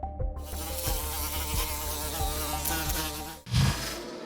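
A dense swarm of bees buzzes around a hive inside a hollow tree log in the forest, a continuous close droning hum with wingbeats circling near and far, then a brief rustle near the end.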